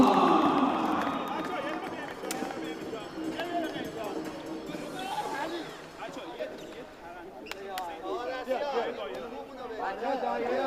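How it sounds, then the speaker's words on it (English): Crowd cheering and chattering at the bronze medal game of a wheelchair basketball world championship, a steady loud arena roar under a public-address announcer's voice, with scattered claps and ball bounces. "A good round of applause for our bronze medalist, Team Iran."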